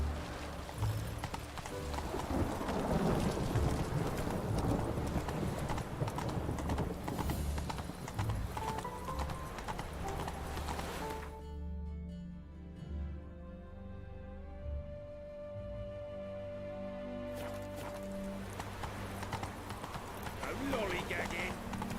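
Horse hooves clip-clopping steadily while riding in The Witcher 3 video game, a rhythmic trot under game music and occasional speech, with a brief whinny.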